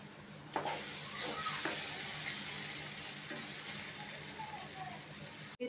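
Onions fry in a pan for upma, a soft continuous sizzle with a few brief clatters of stirring early on and a sharp knock at the end.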